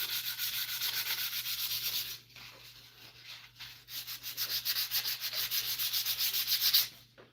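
A guitar body is hand-sanded with a fresh grit of sandpaper, giving close, rhythmic back-and-forth rasping strokes with a brief pause partway through, over a low steady hum.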